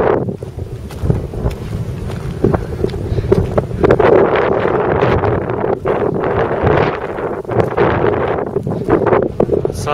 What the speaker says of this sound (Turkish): Biraz rüzgar var ama çok güzel.